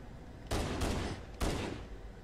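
Weapon fire in the shooter Halo: Combat Evolved comes as two quick bursts of loud, dense gunshots about a second apart, close and with no talking.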